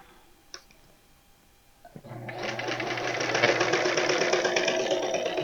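Sewing machine stitching quilt pieces, starting after a couple of clicks and then running as a steady, smooth mechanical whir with a rapid needle rhythm, close and continuous to the end.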